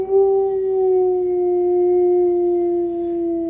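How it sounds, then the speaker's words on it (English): A sleeping, dreaming dog lets out a long, loud, wolf-like howl, a single sustained tone held close and steady with a slight fall in pitch. "that was my dog dreaming, howling like a wolf."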